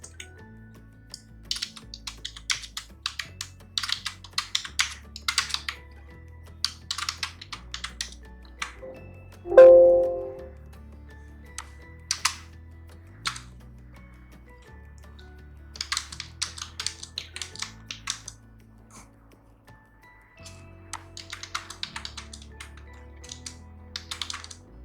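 Computer keyboard being typed on to enter dummy data into an Excel sheet, quick bursts of clicking keystrokes separated by pauses, with one short ping partway through.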